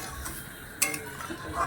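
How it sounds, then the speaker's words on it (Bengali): Spoon scraping and clinking against a cooking pot while stirring katla fish curry gravy, a sharp metallic knock followed by lighter scrapes and taps, close and moderately loud. "এবার আমি তার ঝোলটাকে ভালো করে একটু নেড়ে চেড়ে দেবো।"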